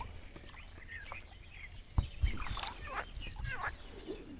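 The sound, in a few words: birds calling by river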